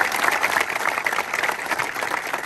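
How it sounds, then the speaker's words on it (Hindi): A group claps loudly and continuously, dense and steady for the whole stretch, at a physical training academy cheering someone who cleared a running physical test. "एक बार जोरदार ताली बजाओ।"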